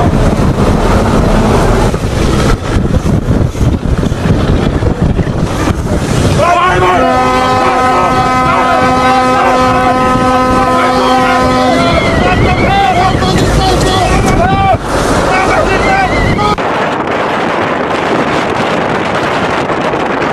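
Roaring engines of a patrol vessel chasing fishing boats in the Celebes Sea, with rushing wind, loud and constant, and a long steady horn blast partway through.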